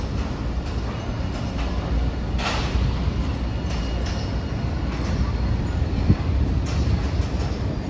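A Hiroshima Electric Railway streetcar rumbles steadily near Hiroshima Station, a loud continuous rolling drone with a few faint clanks and a high electrical whine overhead.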